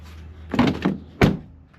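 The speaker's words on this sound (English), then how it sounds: "Make sure all these doors are shut." Truck doors on a work truck are pushed shut, two separate solid thunks about half a second apart, close and fairly loud, with a rattling latch sound around the first.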